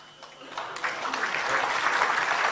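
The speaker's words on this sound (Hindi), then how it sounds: "अभी आप ताली बजा रहे हैं, ताली मत बजाइए" An audience at a book launch event in Delhi breaks into applause that starts with scattered claps and swells into full, sustained clapping from many people.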